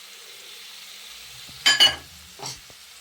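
Chicken pepper fry spices sizzle in a pan, with a soft steady frying hiss broken by two short bursts of stirring and scraping.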